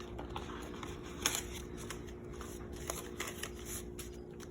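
Paper cash bills are counted and stuffed into an envelope, giving soft, close rustling and flicking with a few sharper paper snaps, quiet and without talk.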